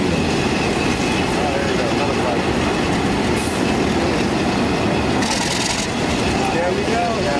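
A privately owned Canadian National streamliner locomotive in as-built colors at a railway museum, with a loud continuous rumble and rattle of rolling rail equipment and a brief metallic squeal.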